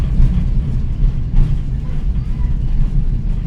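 Steady low rumble of a train rolling along the track, continuous and close, with no clear change in pace.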